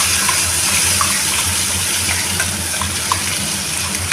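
Water rinsing out a mixer jar while making a brinjal gravy, a steady splashing gush of running water with faint clinks, close and continuous, no talk.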